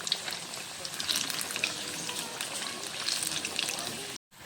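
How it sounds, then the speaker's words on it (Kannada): Chana dal vadas fry in hot oil, a dense, steady sizzle with bright crackles and small pops heard up close, continuing evenly until an abrupt cut near the end. "ನೋಡಿ, ಈ ಥರ ಎಣ್ಣೆಲಿ ಫ್ರೈ ಮಾಡ್ಕೊಳ್ಬೇಕು"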